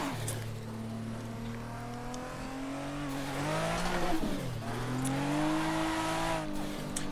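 A Toyota Supra Mark IV with its turbos set to full drifts in the Assetto Corsa racing game, a steady engine drone shifting pitch as it revs, with tire squeal rising midway and the car sounding loud and close throughout.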